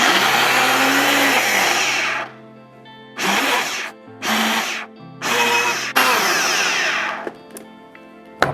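A countertop blender whirs through a post-workout smoothie shake. A long, loud continuous run is followed by several short pulsed bursts separated by brief pauses, with the motor pitch shifting as the contents churn.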